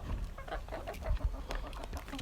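Chickens clucking softly while feeding at a poultry farm, a low steady murmur of short clucks and rustling close by, with no talking.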